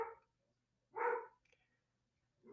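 A dog barks a few times at a distance, two short separated woofs followed by the start of a third, fairly faint in an otherwise quiet room.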